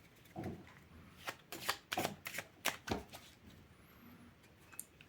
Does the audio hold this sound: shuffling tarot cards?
yes